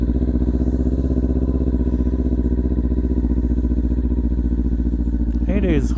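A Kawasaki Ninja 400 motorcycle riding on slippery snow holds a loud, steady engine drone up close with a rider talking over it, and the pitch rises briefly near the end.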